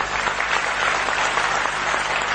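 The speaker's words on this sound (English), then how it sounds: "Ladies and gentlemen, let's give them a huge round of applause" Audience applause at a textile congress in Bangkok, a dense, steady wash of clapping from a large crowd, loud and continuous throughout with no voices above it.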